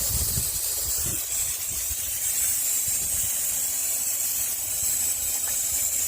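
A pneumatic brake bleeder hooked to a car wheel hisses air steadily from its opened valve, a continuous close hiss with a few low knocks near the start.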